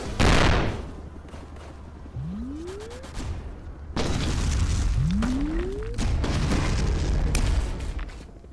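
Missile explosions in a VR kaiju video game boom repeatedly over a continuous rumbling bed, with a loud blast at the start, sharp impacts around the middle, and two rising whistling tones.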